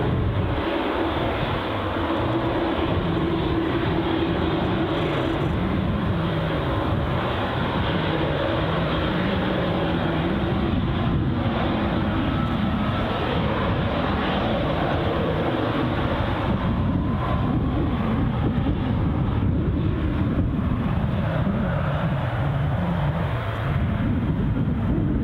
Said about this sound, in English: Embraer 190 long range.